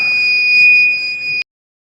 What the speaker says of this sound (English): Now buzzer will make the sound.